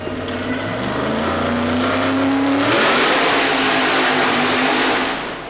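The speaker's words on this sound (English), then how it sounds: "the amassed Pennsylvania racer with a nitrous oxide injected Chevy powered machine" A Pennsylvania super modified mud racer with a nitrous-injected Chevy engine at a 1990 Baltimore mud race roars loudly and steadily, its pitch shifting midway into a rougher, broader blast that fades out at the end, with no talking.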